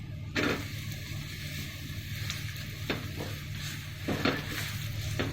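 A rice flour roti (akki roti) fries in gingelly oil on a pan with a soft, steady sizzle, broken by a few light clinks and scrapes of a utensil as it is turned.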